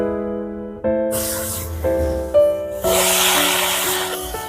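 Bottle gourd goes into hot oil seasoned with bay leaves and whole cumin, the same oil used earlier to fry a fish head. A steady hissing sizzle rises suddenly and swells again partway through over a faint, sustained tonal background.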